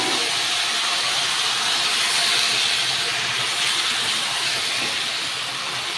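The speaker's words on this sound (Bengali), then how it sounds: "কি ফুটছে লঙ্কা! পাঁচফোড়ন দিয়ে কাঁচা লঙ্কা দিয়ে দিলাম।" Green chilies and five-spice seeds sizzle in hot oil, a loud, dense, steady hiss with faint crackles, close and continuous, with no voices.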